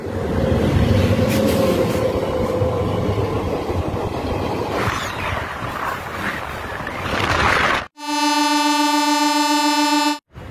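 A local MEMU passenger train rumbles along with a loud broadband roar and rattle, then a long, sustained, tonal horn blast sounds near the end.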